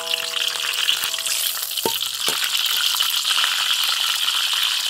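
Steady, loud hiss of hot oil sautéing star anise for Thai-style bone soup, a continuous close sizzle with a couple of faint metallic taps partway through, no speech.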